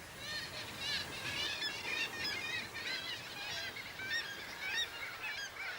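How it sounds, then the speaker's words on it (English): Seabirds calling in a dense colony on sheer cliffs and boulder screes where millions nest, auks among them: a continuous overlapping chorus of honking, croaking cries at moderate distance, busy and unbroken throughout. "Sheer cliffs and screes of boulders are ideal nesting sites for millions of seabirds."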